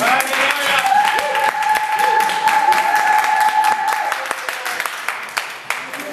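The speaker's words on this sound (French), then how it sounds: "C'est pour cela que je vous demande d'applaudir pour vous-même." A church congregation claps for themselves during a French-language sermon, with many hands clapping over a sustained tone, loud at first and thinning out toward the end.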